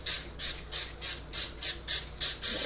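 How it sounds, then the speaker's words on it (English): Pam Original cooking spray is squirted into a baking pan for banana bread in a rapid series of about eight short, hissing bursts, each evenly spaced and close to the microphone, with no voice heard over them. "we are going to be using some Pam Original. So you're just going to spray the inner line."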